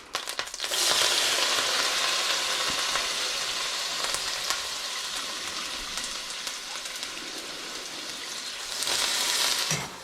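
Leeks fry in hot butter in a pan on a stovetop, giving a loud, steady, close sizzle that runs unbroken for about ten seconds and swells again near the end, with no talking.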